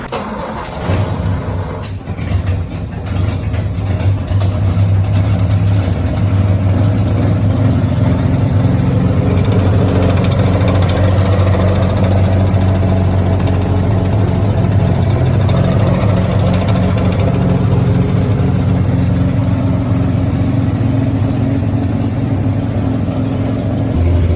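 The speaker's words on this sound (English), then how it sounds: "We have a video of this engine running" A hotwired car engine fed from an external fuel source runs loud and close. A few sharp clicks and pops mark the start, then a steady rumbling idle holds for the rest of the clip with no talking.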